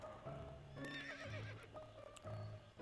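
A horse neighs and whinnies in the To The Moon video game, with several rising whinny calls over background game music and faint hoof clip-clop.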